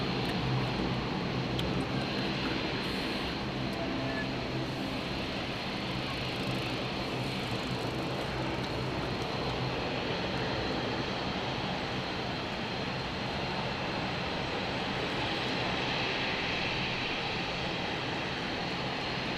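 A de Havilland Dash 8-200 turboprop at London City Airport gives a steady, loud engine roar that holds unbroken for the whole stretch, with no voices over it.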